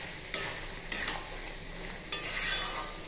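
Poppy seed paste is stirred into ridge gourd frying in a pan, giving loud, repeated spoon scrapes over a continuous close sizzle, with no voices.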